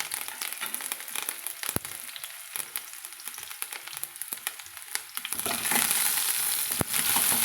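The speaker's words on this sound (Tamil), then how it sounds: "கடுகு பொரிஞ்சு வச்சதும் நம்ம கொஞ்சமாக சின்ன வெங்காயம் சேர்த்துக்கலாங்க" Small shallots and curry leaves frying in oil with popped mustard seeds, with crackling sizzle and sharp stirring clicks; the frying swells louder and denser in the last couple of seconds.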